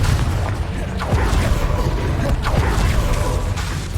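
A fiery Confringo spell blast in Hogwarts Legacy, heard as dense, rumbling bursts and booms in continuous succession, loud and close throughout a chaotic magical combat scene.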